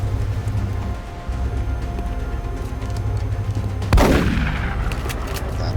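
A single sharp gunshot from the video game X-COM: Enemy Within cracks out loudly and then decays, set against a low steady game ambience with no talking.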